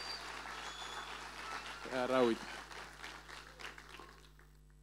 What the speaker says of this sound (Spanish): Un aplauso para mis actores que se pasaron.